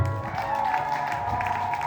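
A church congregation applauds together during a sermon, producing steady, continuous clapping that holds at an even level throughout, with a faint tonal hum sitting beneath it.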